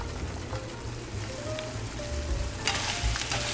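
Tofu sizzles steadily in a hot pan with oyster sauce, pepper and salt while cooking Filipino tofu sisig, a dense rain-like crackle that swells louder near the end.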